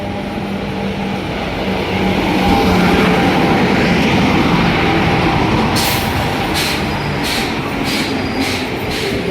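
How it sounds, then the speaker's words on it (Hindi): A passenger train rolls into a station with a loud, steady rumble of wheels and carriages. Near the end, a run of sharp hissing bursts from the air brakes cuts through the noise. "तो दोस्तों ट्रेन आ गई है, ये ट्रेन आ गई है।"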